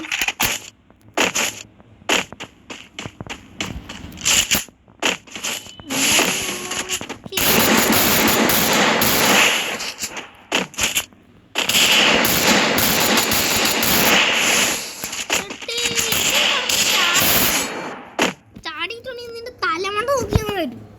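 Rapid bursts of gunfire from a shooting video game during a one-on-one match, with loud clustered shots and short pauses, mixed with excited talking throughout.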